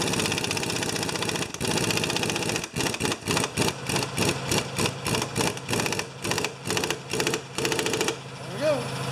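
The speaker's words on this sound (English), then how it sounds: "so I have to use the impact wrench to tighten it up" Impact wrench tightening a blade bolt on a Honda HRA214 lawn mower, a steady motor whir followed by a string of rapid, evenly spaced hammering bursts, loud and close.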